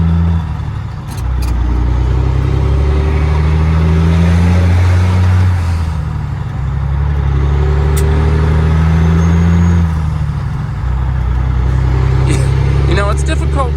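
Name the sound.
semi truck engine while driving and shifting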